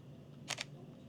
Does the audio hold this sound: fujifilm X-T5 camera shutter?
yes